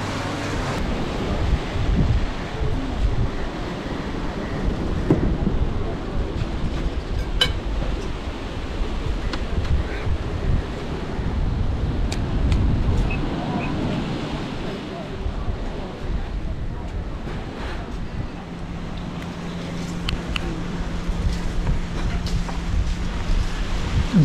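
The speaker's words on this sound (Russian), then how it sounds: "И здесь прямо можно понаблюдать, как набегают морские волны." Sea waves rolling in and washing onto a beach at a Zanzibar hotel, a steady broad wash of surf mixed with wind buffeting the microphone, continuous and fairly loud throughout, with a low boat engine drone appearing near the end.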